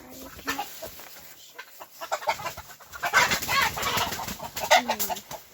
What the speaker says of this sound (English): If you hold a chicken upside down, they're not going to flop all over the place.